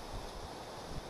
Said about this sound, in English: The wind keeps changing directions and it's blowing like crazy.